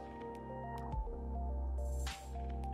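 Wet chicken wings being dredged in dry flour give a brief soft rustling scrape, close by, over steady background music.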